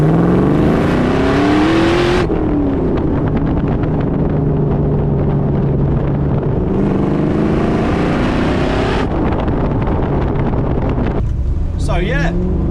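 A Land Rover Defender converted to a 5.3 L L83 V8 petrol engine drones loudly and steadily, rising and falling in pitch as it shifts through gears, with a voice talking over it and wind noise.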